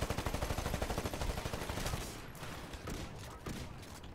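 Rapid bursts of gunfire from the multiplayer shooter Titanfall, dense and continuous for the first two seconds, then thinning into scattered, slightly more distant shots.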